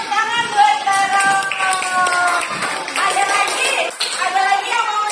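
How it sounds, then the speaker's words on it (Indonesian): Children in a classroom applauding for a classmate named Rano, a lively burst of many hands clapping continuously and close, with voices mixed in. "tepuk tangan buat Rano"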